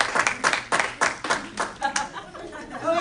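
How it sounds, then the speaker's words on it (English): An audience of faculty and community members at a university lecture claps in a short burst of distinct, fairly close handclaps, with some chuckling and chatter mixed in. "Please clap."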